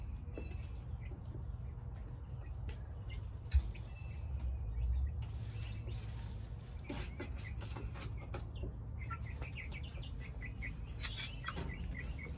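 Backyard chickens, a hen and roosters, cluck and call intermittently amid outdoor background noise, scattered short vocalizations at moderate distance with a brief loud knock partway through.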